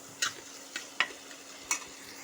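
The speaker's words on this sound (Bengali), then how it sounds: "আলুর সাথে শুটকিটাকে ভালো মতন কষিয়ে নিয়ে" Dried fish and potatoes stirred and fried together in a pan, a soft steady sizzle punctuated by four sharp utensil scrapes and clicks, with no talking.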